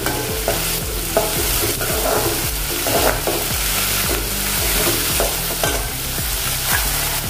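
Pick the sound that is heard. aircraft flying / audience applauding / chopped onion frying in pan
chopped onion frying in pan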